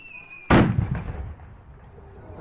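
A single sharp, loud gunshot blast at a medieval castle show bursts out of near silence, then rumbles and decays over about a second into a faint lingering tail.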